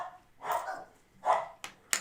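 Dogs in a house bark at neighbors coming or going, giving two muffled barks followed by a couple of sharper short yaps, moderately close, with no talking.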